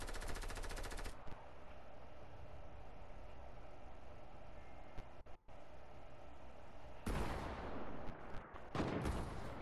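Rapid bursts of gunfire in the video game Fortnite, loud and sustained, with a brief dropout midway and heavier, denser shots returning near the end.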